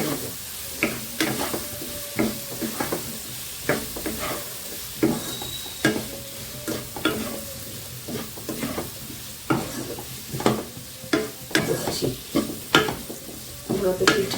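Spicy filling for kuli pitha frying in a pan with ground coriander, a steady close sizzle broken by repeated scrapes and stirs of a spoon against the pan, loud and without talk.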